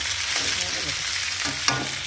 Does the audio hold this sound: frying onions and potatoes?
yes